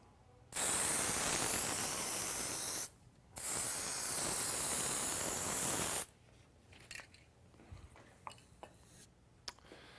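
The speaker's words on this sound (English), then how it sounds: "spray the slot with dry graphite lubricant" Dry graphite lubricant sprayed into a slot in a bar, two loud continuous aerosol hisses of about two and three seconds with a short break between, then quiet handling clicks.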